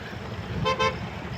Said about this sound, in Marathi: त्या गाड्या कशा वाहत्यात, पुणे सोलापूर हायवे.